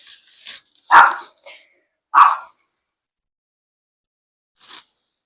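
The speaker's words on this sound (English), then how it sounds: "she is just barking and barking and barking" A dog barks a few times close by, short sharp yips separated by pauses, with a fainter bark trailing at the end.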